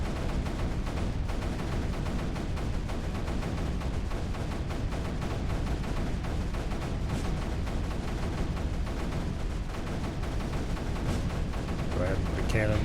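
Rapid, continuous gunfire from an automatic cannon turret in a tower-defense style video game, dense and loud throughout without pause.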